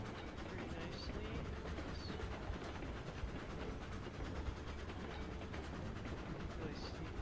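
Steady rumbling of a train rolling along track in the railway game Railroads Online, constant and fairly close, with faint rattle and occasional high squeal.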